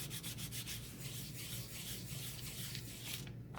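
Burnishing a transfer onto a wooden picture frame; a continuous close, rhythmic rubbing and scraping, steady back-and-forth strokes that stop abruptly at the end.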